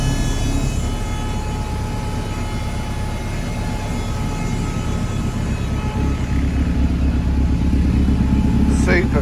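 A Honda Civic EG with a B20 VTEC swap idles steadily close by, a loud, even engine drone with a faint high whine, and people speak over it.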